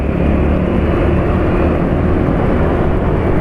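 A loud, steady motorcycle engine drone runs without a break, a coarse, rough rumbling roar heard up close with no talking.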